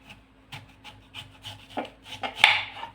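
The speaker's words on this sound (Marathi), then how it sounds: "देठाकडे भाग कट करायचा आणि अशा पद्धतीने आपल्याला हे" A knife cuts a raw green mango into long slices starting at the stem end, making a series of short scraping and chopping strokes against the fruit and board.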